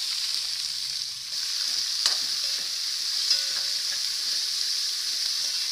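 Steady bright sizzling of vegetables frying in a pan, continuous and close, with a few faint clinks and stirring sounds.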